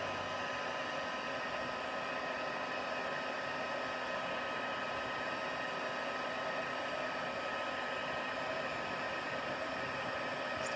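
A heat tool blows steadily to melt embossing powder on a Christmas gift card holder, a continuous loud broadband hiss and whir like a hair dryer, unbroken and without talk.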